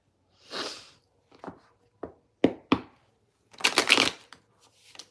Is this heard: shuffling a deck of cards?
yes